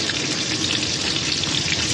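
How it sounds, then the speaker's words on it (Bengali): Potatoes with a little turmeric fry in hot oil, giving a dense, even crackling sizzle close up with soft stirring. The sound runs continuously, with no voices. "দিয়ে নাড়াচাড়া করবো, একটু ভাজা ভাজা হবে আলুটাকে।"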